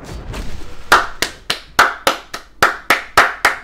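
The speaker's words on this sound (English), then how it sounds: "Can I just get a round of applause?" Slow, deliberate round of clapping by one person: about ten sharp, evenly spaced claps close to the microphone after a quiet start.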